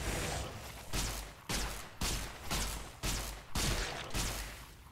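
Energy gun fire in Fallout New Vegas, aimed at hostile plants: a rapid series of about seven sharp, evenly spaced zapping blasts, each swelling and then cut off, loud and close with no talk.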